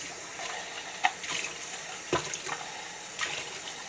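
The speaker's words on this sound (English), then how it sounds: "Want some water? I'll get you some water." Water running from a tap in a home, a soft steady faint stream with a few small splashes and clinks over it, no voices.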